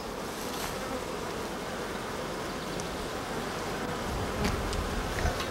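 Honeybees drone around opened hive boxes in July, a dense continuous buzz from many insects close by, with a few louder passes near the end and no talking.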